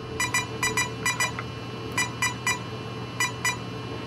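Groups of short, high electronic beeps from a Castle electronic speed controller being programmed, a few quick tones per burst separated by brief pauses, with no talking.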